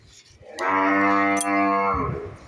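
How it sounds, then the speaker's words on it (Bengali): A single long, loud cow moo rings out close by, heard from a rooftop in the morning, steady for over a second before trailing off. "গরুটা কেন ডাকছে কেন কে জানে"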